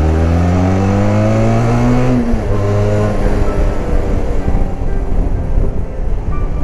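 Benelli 502 TRK 2019 trail-version twin-cylinder motorcycle on its stock exhaust, revving loudly with rising and falling engine pitch, then settling into a steady rough running drone, close and continuous with no talking.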